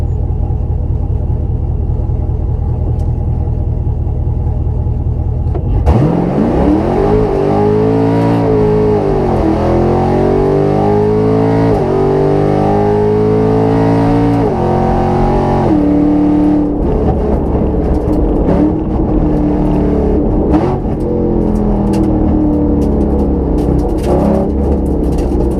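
Chevrolet Camaro SS drag racing at an index race: a loud idling rumble, then a sudden launch into hard acceleration with engine pitch climbing through several gear shifts, close and powerful throughout.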